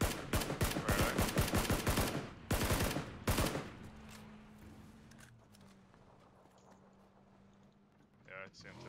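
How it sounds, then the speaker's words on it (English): Rapid bursts of gunfire crack out in a shooter game, first a fast string of shots and then a few more heavy rounds. A voice talks over the firing before it fades to quieter background sounds. "There's some shots over there."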